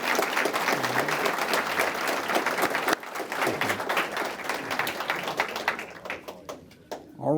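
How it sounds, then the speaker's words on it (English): Sustained audience applause at a police awards ceremony, dense clapping from a crowd that stays loud for several seconds, then thins out and tapers toward the end. "one more round of applause for him."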